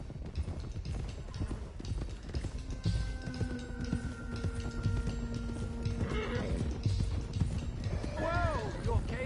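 Horses clip-clop steadily while being ridden in Red Dead Redemption 2, with a neigh or whinny breaking through near the end, game music and ambience running underneath and a voice speaking in the background.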